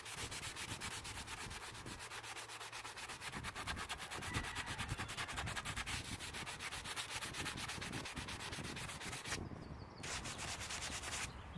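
Continuous close rasping of sandpaper rubbed back and forth over a handmade manau wood bow, steady and dense throughout with a brief pause near the end, no speech.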